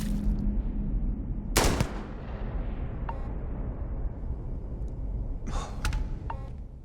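Gunfire in the video game Starfield: a sharp, loud blast near the start, a softer shot later, and a burst of several closely spaced shots toward the end over a constant low rumbling background.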